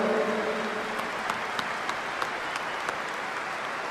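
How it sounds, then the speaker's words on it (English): Sustained applause from a large football stadium crowd celebrating Liverpool FC's Premier League title, a dense wash of clapping that stays steady throughout, with a voice briefly audible at the start. "we should give them a big round of applause as well."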